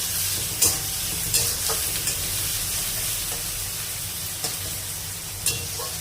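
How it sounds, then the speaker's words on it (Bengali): Onions with a little salt fry in a pan, a steady close sizzle broken by several sharp scrapes and clicks of a spatula stirring at irregular intervals. "পেঁয়াজটার মধ্যে দিয়ে দিচ্ছি একটু লবণ, তাহলে আর কি পেঁয়াজটা তাড়াতাড়ি একটু ভাজা ভাজা হয়ে যাবে"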